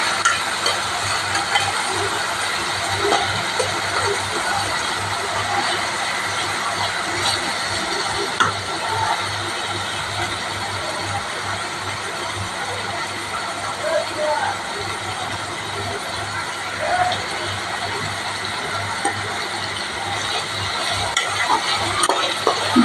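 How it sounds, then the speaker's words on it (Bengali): Garlic paste frying in a pan while being stirred toward brown, a continuous close sizzle with repeated spatula scrapes and occasional knocks against the pan. "রসুন বাটা দিয়ে দিলাম এবং এবার এটাকে ভালোভাবে নেড়ে চেড়ে আমি ব্রাউন কালার করে নেব"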